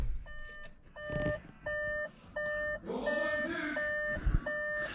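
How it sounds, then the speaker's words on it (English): A car's door-open warning chime beeps repeatedly in an even rhythm, about seven short tones, with faint rustling and a brief muffled voice in the background. "it only beeps when you open the damn door"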